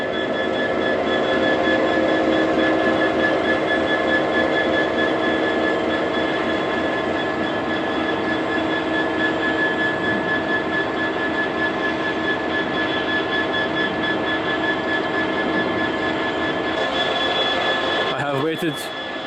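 A train stands idling in a museum car park, a steady loud engine drone with constant tonal hums running throughout, ending in a brief clatter.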